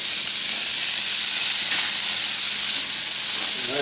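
Onion and chopped broccoli sizzling in thinned-out grease in a skillet on a stovetop turned up high, a loud, close, unbroken hiss of frying that stays even from start to finish with no voices.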